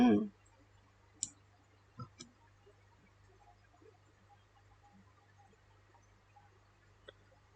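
A computer mouse clicks a few times while someone works in programming software, faint and sparse, scattered single clicks over a quiet room hum.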